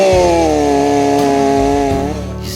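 A chainsaw cutting fallen trees into firewood, a loud, close, sustained engine whine holding one pitch and then dipping slightly as the cut loads it, with no voices.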